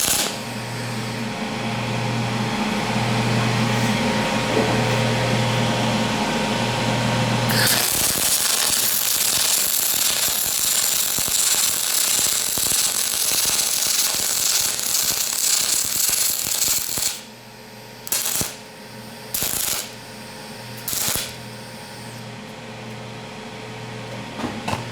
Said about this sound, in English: Try a lap weld now.